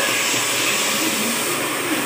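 Onion, ginger and garlic paste frying in a pan, a loud, dense, continuous hiss with no breaks, close up.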